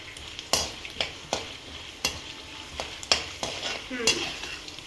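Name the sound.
frying peanuts and urad dal in a pan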